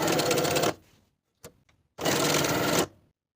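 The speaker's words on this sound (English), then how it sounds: "I'll sew right on top to reinforce these inner corners." A sewing machine runs in two short, fast bursts of stitching to reinforce the inner corners of a quilted jacket, with a brief click and a near-silent pause between them.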